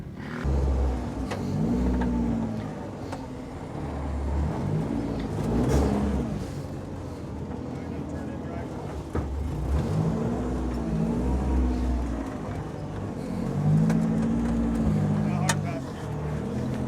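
Custom Tracker rock crawler, built light and scaled down, climbing a rock obstacle with the rear unlocked and cutting brakes used to pivot; its engine revs in repeated surging bursts over a steady low rumble, close by.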